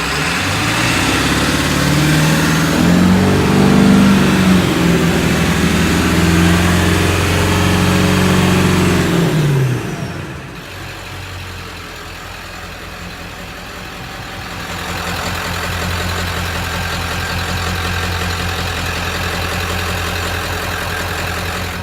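A car engine running loud and close, holding a steady rev with a rising and falling tone, then dropping to a lower idle and settling into a constant rumble.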